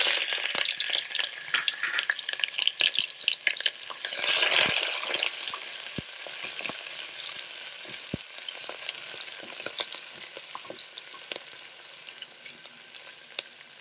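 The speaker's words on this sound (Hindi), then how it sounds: "प्याज को अच्छे से गोल्डन ब्राउन कर लेंगे।" Chopped onion with cumin fries in hot oil until golden brown, a loud continuous crackling sizzle with stirring scrapes and a few sharp utensil knocks throughout.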